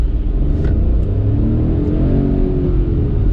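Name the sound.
car engine revving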